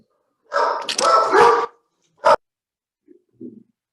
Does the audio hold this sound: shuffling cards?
no